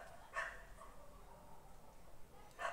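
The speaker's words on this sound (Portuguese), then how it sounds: "O cachorro atacado aí de novo." A dog gives two short barks spaced a couple of seconds apart. They sound faint and somewhat distant against a quiet room background with no talking.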